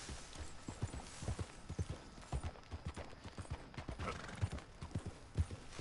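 Rhythmic hoofbeats of a horse ridden bareback in Red Dead Redemption 2, a steady moderately loud clip-clop running throughout with faint creaks.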